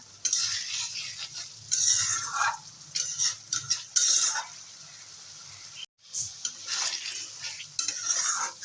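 Spice paste frying and being stirred in a pan for a Bengali parshe fish curry, with green chillies added; close, repeated scraping stirs over a steady sizzle in bursts, with one brief pause.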